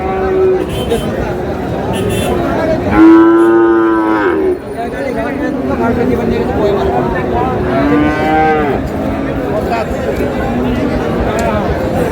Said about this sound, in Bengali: ষাঁড় বাচ্চা।